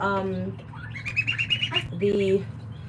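Young poultry in a predator-proof brooder barn give a quick close string of high chirps and peeps, with a person talking just before and after.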